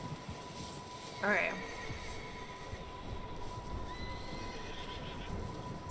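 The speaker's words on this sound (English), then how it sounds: "Sounds like there's some pissed off horses in there." A horse in a barn in Red Dead Redemption 2 gives one short, loud whinny over steady background ambience, followed by fainter, higher calls. A player talks over the scene.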